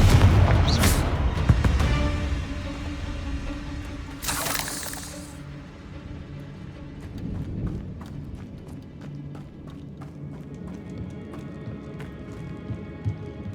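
The Confringo blasting spell bursts egg sacs in Hogwarts Legacy with a loud shattering blast near the start, a second crackling burst a few seconds later, and then lighter scattered clicks and thuds over low rumbling game ambience.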